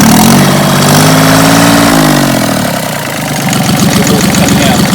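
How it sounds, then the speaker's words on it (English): Inboard diesel engine on a yacht, run during flushing and winterising, revs up from idle to a higher speed, then settles into a steady, loud, close running drone with a rough mechanical chug. "And if I rev the engine"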